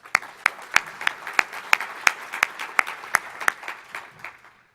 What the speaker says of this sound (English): we owe Hudson and the whole coalition a round of applause